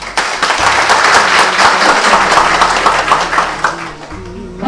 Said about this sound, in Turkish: Onlara da her zaman bir alkış gelsin.